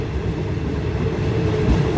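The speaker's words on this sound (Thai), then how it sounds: "ชมรถไฟที่สถานีมวกเหล็ก" A train rumbling through Muak Lek railway station in a Thai valley, a steady low rolling roar with faint rhythmic wheel clatter, fairly loud and continuous with no voices.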